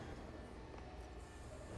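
Train in Telltale's Batman Season 1 game, a faint, continuous low rumble of rolling rail cars with no break or change through the short stretch.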